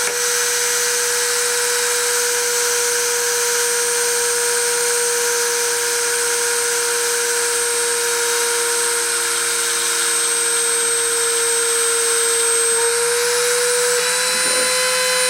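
A machine spindle runs steadily through a deposition process, giving a continuous high whine with a strong steady tone, close and loud, with no pauses and no voices.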